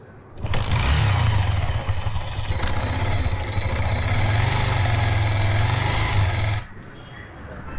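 A steady, loud engine rumbles continuously for several seconds and then cuts away abruptly, like a motorcycle running close by.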